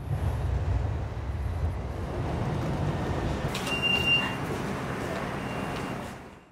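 Songjiang tram running along its rails, a low, steady rolling rumble with a brief high squeal of wheels midway, fading out at the end.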